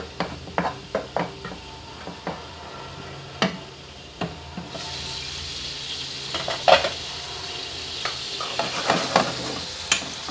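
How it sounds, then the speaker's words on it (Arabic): Sausage fries and browns in a pan with spices and harissa, sizzling steadily while a utensil scrapes and stirs in sharp, repeated knocks, close and fairly loud. "هنا الصوصيط بدا كيطيب وكيتحمر"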